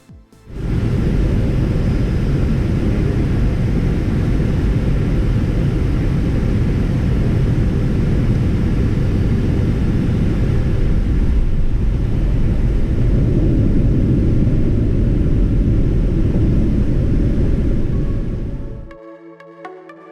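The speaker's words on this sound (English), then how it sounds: "Check out this smooth landing from a great crew." Loud, steady roar from inside the cabin of a Delta Boeing 757-200 airliner landing, a dense rumble holding for about eighteen seconds before dropping off sharply to near quiet.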